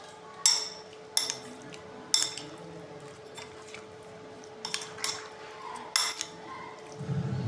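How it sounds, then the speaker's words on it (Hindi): Chicken marinade with vinegar and soy sauce is mixed in a bowl, giving a handful of sharp clinks and taps from a utensil against the dish, spaced irregularly over quiet, wet stirring. "इन सारी चीज़ों को अच्छे तरीके से हम मिक्स कर लेंगे"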